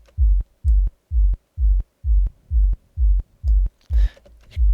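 Sidechain compression pumps a synth pad in Ableton Live under a heavy kick drum, making a steady throbbing rhythm of about two beats per second as each thump ducks the sustained tone, with no speech.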